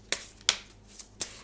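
A deck of cards being shuffled by hand, four short sharp riffling snaps spaced unevenly over about a second and a half, close and fairly quiet with no talk.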